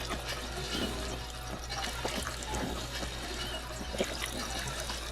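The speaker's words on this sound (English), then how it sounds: "Drink some more water." Water trickles and gurgles during drinking in Fallout 4, a steady liquid pour with a low hum beneath, moderately loud and continuous.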